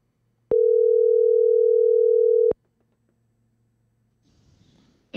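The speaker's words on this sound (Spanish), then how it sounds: "Hey Siri, call my brother. Calling Arturo Mobile" One long steady ringback tone from a phone call placed through the Siri voice assistant, starting abruptly and stopping after about two seconds, followed by near silence and faint murmuring.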